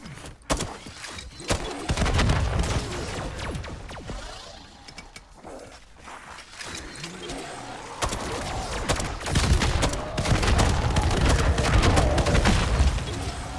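Bursts of automatic gunfire and booms in the video game Modern Warfare Zombies, with mechanical clanks and creaks between rapid rattling volleys, loud and continuous throughout.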